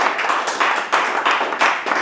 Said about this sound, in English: See, they're applauding.